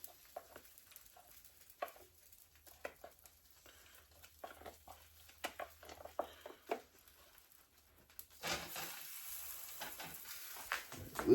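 French toast slices fry in a pan with a soft, intermittent sizzle and scattered light pops and taps, growing into a steadier, louder hiss near the end.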